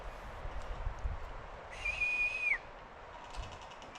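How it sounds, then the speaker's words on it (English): One high, drawn-out whistle rises and holds for under a second before dropping off, heard outdoors at moderate distance over a low, steady background rumble with faint repeated chirpy notes later. "the whistles."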